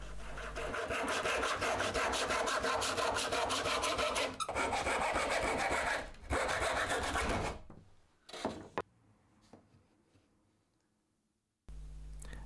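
A hand saw cuts a wooden workpiece held on a bench hook, a fast, even rasping of back-and-forth strokes that runs steadily, pauses briefly, gives way to a few clicks and knocks, then resumes.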